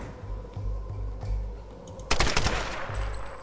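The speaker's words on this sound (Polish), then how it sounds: "Ktoś jeszcze do mnie strzela?" Enemy gunfire in the Tomb Raider video game: a sharp, loud burst of rapid shots cracks out midway, over a low pulsing background drone.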